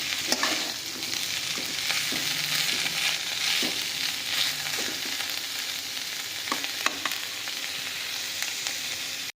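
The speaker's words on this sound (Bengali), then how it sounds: "এখানে দেখো চিচিঙাটা অনেকটাই ভাজা হয়ে গেছে" Snake gourd pieces frying in a pan, a continuous close sizzle with occasional stirring scrapes and clicks of the spatula, steady throughout with no voices.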